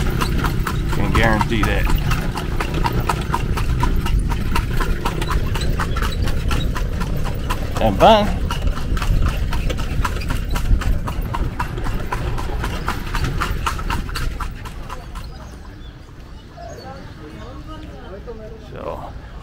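Horse-drawn carriage hooves clip-clop steadily on a street in Vigan City, close and continuous, with a voice speaking over the steps and the rhythm thinning toward the end.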